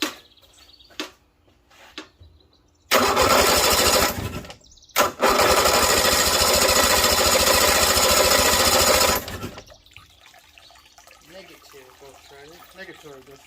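A 1956 Evinrude Lark outboard motor fitted with temporary spark plugs is cranked in two loud, steady roaring, rattling bursts with a brief pause between them. Quiet talk follows.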